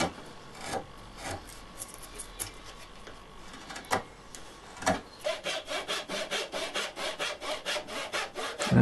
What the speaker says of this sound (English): cut off most of the waste with a saw